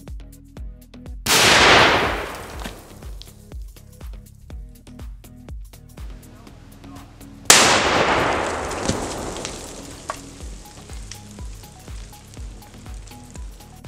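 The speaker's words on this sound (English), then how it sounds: "The goal is to create the ideal scenario where the nail bomb detonates near the torso" Two sharp blasts from a homemade nail bomb detonating near a zombie torso dummy, each a loud crack trailing into a long hissing, crackling decay, the second stronger, with faint ticking between.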